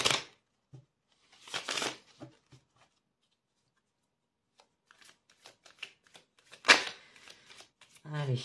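Tarot cards shuffled and cut in a few short bursts of riffling and slapping, close and fairly quiet, separated by pauses, with a voice speaking briefly at the start and the end.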